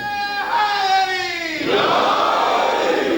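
A crowd at a religious gathering raises a loud, sustained chant of voices in unison that rises and falls, then breaks into a broad roar of cheering.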